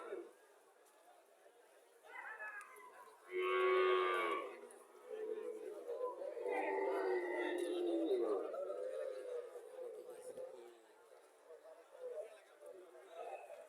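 Cattle and a calf lowing among a crowd at a cow fair in a Cumilla village market, with a clear moo and longer low calls standing out over constant nearby chatter.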